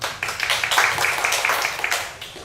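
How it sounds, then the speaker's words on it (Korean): An audience at a testimony gathering marking four years since the Sewol ferry disaster claps to welcome a speaker, a moderate burst of many hands that stays fairly even and then tapers off. "박수로 모시겠습니다."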